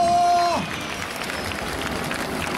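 Crowd clapping at the Jesolo European Air Show, a steady spread of applause that follows a brief tonal announcement sound at the start and carries on evenly to the end.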